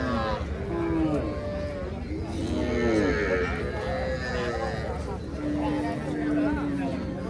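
Cows and calves at a busy cattle market, with repeated loud moos and lowing calls rising and falling amid crowd noise while people talk nearby.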